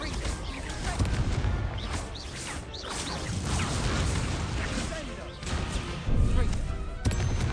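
Repeated Glacius ice spell casts in the Hogwarts Legacy video game, loud crashing magical bursts and whooshes at a steady rhythm over dense game effects, with several sharper hits near the end.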